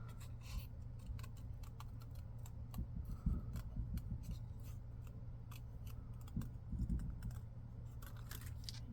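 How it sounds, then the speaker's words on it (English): Scissors snip steadily through paper while candy pieces are fussy cut, giving close, quiet crisp clips in irregular bursts over a low steady background hum. "Fussy cut a few candies."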